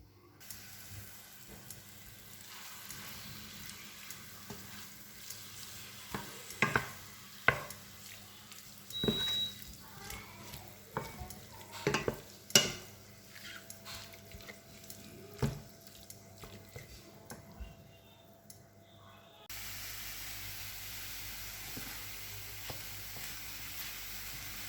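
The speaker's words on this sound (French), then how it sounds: "maintenant, je vais faire revenir avec les oignons" Rice sautéing with onions in a pan for a chicken curry risotto sizzles softly beneath a series of sharp clinks and scrapes from stirring, and the hiss steadies into a louder, even fry near the end; no speech.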